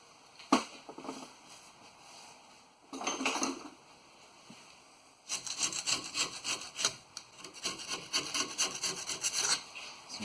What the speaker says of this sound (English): we're going to go ahead and clean that gasket surface up a bit